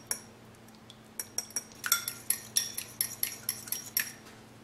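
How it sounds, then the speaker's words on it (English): Quick metallic clinks of cutlery against a plate as an egg is beaten for Nutella turnovers, a steady run of light taps growing busier and louder, close up with no talking. "And we're gonna mix."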